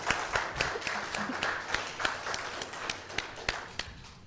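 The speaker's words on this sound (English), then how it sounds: "How about a nice round of applause for Gilman?" Scattered, fairly faint applause from a church congregation for Gilman, individual claps standing out in an uneven rhythm that continues steadily throughout.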